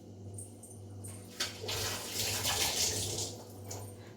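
Running tap water splashes over hands being washed in a kitchen sink, a soft continuous gush that swells and wavers up close, with no talking.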